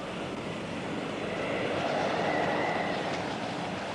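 A train rolling along rails gives a continuous broad rumble that swells slightly in the middle, steady and fairly loud, with no voices.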